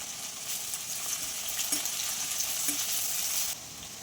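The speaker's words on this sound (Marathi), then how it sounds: "तेलात पहिले लसूण टाकून घ्यायचं आहे मग अद्रक आहे बारीक नंतर मग कांदा टाकायचा आहे" Garlic, finely chopped ginger and onion frying in hot oil, a loud continuous sizzle with brief stirring scrapes that drops off sharply near the end.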